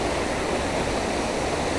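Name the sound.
loud waterfall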